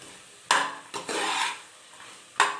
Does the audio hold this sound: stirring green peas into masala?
yes